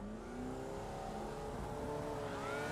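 Engines revving together on the grid before a Formula Vee race start at Okayama in iRacing, a dense buzzing drone that builds steadily over a few seconds with no talk.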